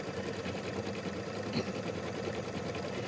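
A Kimberbell embroidery machine stitches a background quilting design on a mystery wallflower quilt, a steady, dense mechanical whirr running continuously and close, with no voices.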